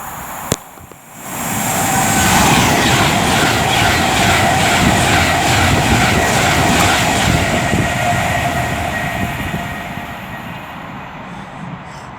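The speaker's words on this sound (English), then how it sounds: "now about to pass by is going to be 39154 from Manchester to London" Train 39154 from Manchester to London speeds through Milton Keynes Central station on the West Coast Main Line, a loud, close roar that rises quickly after a brief thump and holds steady with rhythmic wheel clatter before easing slightly.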